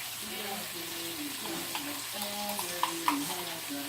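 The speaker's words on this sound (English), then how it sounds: "First, you saute it with garlic, onion" Tomato paste sautés with garlic and onion in a pan, a faint, steady sizzle with a few soft stirring clicks and a low hum of background voices.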